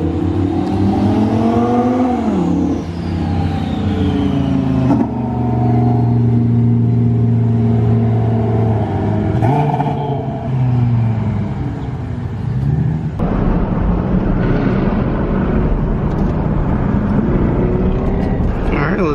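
A Nissan GTR and an Audi R8 with a turbo and flame-throwing exhaust race on the street at night, engines revving and rising in pitch through several loud gear pulls, with voices talking over the roar.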